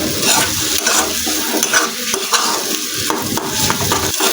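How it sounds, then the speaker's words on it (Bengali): Egg bhujia with onion and spices sizzles and fries in a pan while a spatula stirs and scrapes it in repeated strokes, close and steady, with no voices. "তো দেখো এটা 4-5 মিনিট ধরে আমি একটু ভাজা ভাজা করে নিচ্ছি।"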